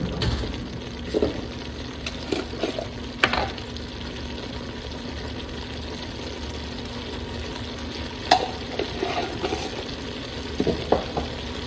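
Ground hamburger meat and diced onions with salt and pepper fry in a pan with a soft, continuous sizzle. Occasional louder scrapes and clatters from stirring break through, and no one speaks.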